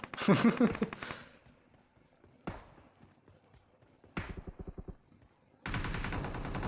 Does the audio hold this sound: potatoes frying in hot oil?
no